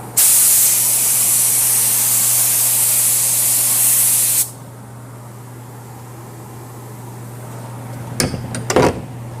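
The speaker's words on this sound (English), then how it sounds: "We spray it at about 17 psi." A loud, steady hiss of hydrographics activator sprayed at about 17 psi runs for about four and a half seconds, then cuts off abruptly, followed by quiet and a few brief clunks.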